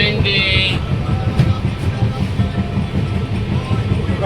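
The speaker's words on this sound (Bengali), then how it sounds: "সকাল বেরিয়ে পড়লাম তারাপীঠের ট্রেনে করে এই মুহূর্তে চলেছি" Rumble and rhythmic clatter inside a moving passenger train bound for Tarapith, a steady loud low roar with faint clicking over the rails.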